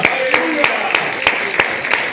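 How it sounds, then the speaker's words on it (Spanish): A steady patter of rhythmic clapping, like a church congregation applauding in time, fills the short stretch with no voice over it. "Fuertes aplausos al Señor"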